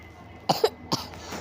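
A person who is sick with a cough and cold coughs three short times close to the microphone, the first two together and the third a moment later, with no talking.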